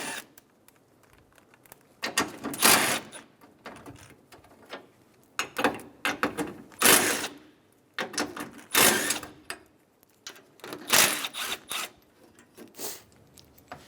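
A ratchet works loose the 10mm bracket bolts by the radiator and condenser of a 2003-2008 Honda Pilot, with repeated bursts of rapid clicking separated by short pauses, close and moderately loud.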